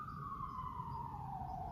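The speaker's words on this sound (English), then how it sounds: "There's construction, there's sirens" A siren wails faintly from outside an apartment, a single sliding tone that falls steadily in pitch over a soft, distant background of city noise.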